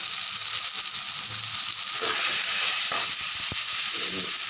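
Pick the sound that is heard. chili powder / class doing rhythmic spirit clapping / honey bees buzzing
chili powder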